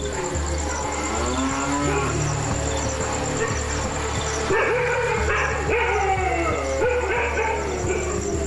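Cattle in a village where lions and leopards roam low in long, drawn-out moos that overlap across the whole stretch, loud and near, with dogs barking in the background and a steady low hum underneath.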